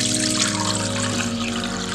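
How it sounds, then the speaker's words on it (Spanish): Cooled agua de Jamaica, water boiled with hibiscus flowers, strained through a strainer as a steady, close liquid stream that trickles and splashes continuously without pause. "Y ahora lo vamos a colar ya que se enfrió."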